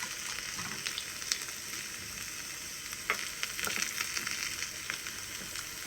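Raw ginger and pepper sizzle in ghee in a small tempering ladle over a low flame for Thanni Pongal, a soft steady hiss with occasional faint pops and crackles, quiet and close.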